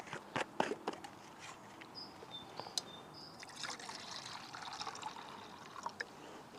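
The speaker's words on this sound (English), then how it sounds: "I do want to get a pot of water on there so I can have a coffee" Water trickling and pouring into a 750ml titanium pot for coffee outdoors, soft uneven splashes and dribbles with light knocks, quiet and close, no talking.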